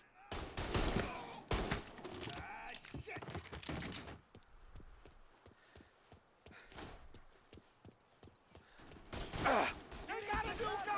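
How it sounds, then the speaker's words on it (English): Gunfire in Mafia: Definitive Edition, loud bursts of rapid shots at the start, then sparse scattered single shots, and another heavy volley near the end, with voices shouting in between. "You're taking fire!"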